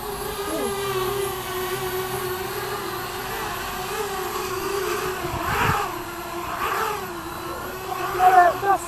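A Parrot Bebop quadcopter drone hums steadily as it flies in to land, with rotor noise swelling and dipping near the end and people talking over it.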